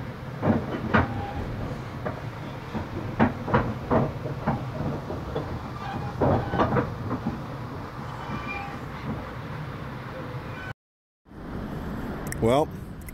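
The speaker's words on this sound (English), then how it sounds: "Just a dude riding a train, looking at another train." A passenger train rolling along rails in Utah gives a rhythmic clickety-clack of wheel knocks over a steady rumble, briefly dropping out before squeals and clatter return.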